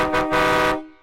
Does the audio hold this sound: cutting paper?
no